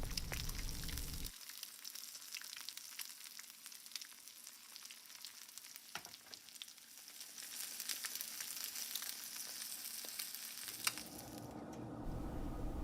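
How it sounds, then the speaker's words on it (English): Eggs fry in hot bacon grease with a soft, steady sizzle and faint crackle throughout, quiet and close, briefly louder near the start and end. "I'm going to fry up a couple of eggs in the bacon grease as well."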